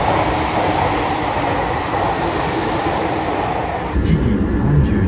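A Fukuhoku Yutaka Line train at Space World station gives a loud continuous rumble of rolling wheels and motor from on board, shifting in tone near the end, with a voice speaking briefly.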